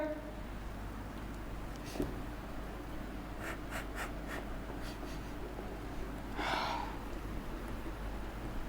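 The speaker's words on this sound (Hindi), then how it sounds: "ऊपर लिखते हैं इसके" Writing on a board during a physics lesson on units and measurement: a few short, quick scratchy strokes in a cluster, then one more, set against a steady hum of room noise with no talking.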